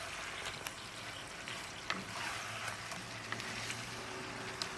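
Guyanese jerk chicken frying in a pan and being given a quick stir, a quiet, even sizzle with scattered crackles and small scraping ticks, close by with no voices.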